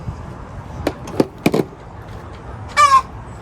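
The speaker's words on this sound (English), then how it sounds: "Don't mind the chicken. She just must have laid an egg." Hen's excited post-laying clucks near a workshop with a portable winch being built: a few sharp separate clucks, then a louder rising squawk toward the end, heard alone over quiet background.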